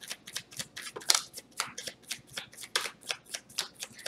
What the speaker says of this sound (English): And I shuffled really good.